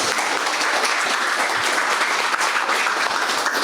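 A conference audience at a plastics forum breaks into dense, steady applause welcoming a speaker, the clapping continuous and full throughout with no voices over it.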